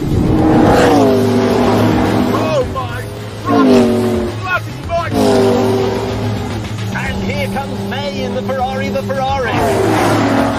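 A car engine revs hard with boost engaged, adding about 170 horsepower, in repeated rising surges and gear changes close up, with people talking and shouting over the roar.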